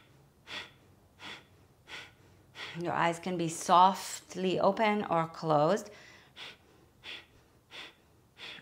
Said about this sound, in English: And the rhythm with which you're breathing can be slower than what you're hearing me do, or faster.